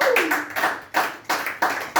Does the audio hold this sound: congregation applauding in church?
yes